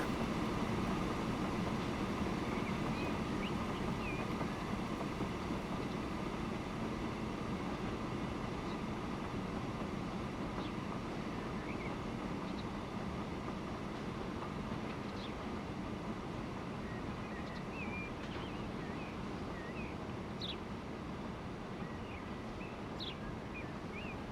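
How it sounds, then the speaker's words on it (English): A steam train running in the railway game Transport Fever 2, set in 1925 Britain, gives a steady, low rumbling drone that carries on unbroken, with faint bird chirps scattered above it. "Finally, this train is moving."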